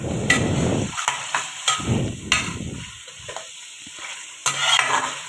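Mutton karahi frying in a pan is stirred with a utensil, giving scraping strokes and clanks over a steady sizzle at close range, with no talking.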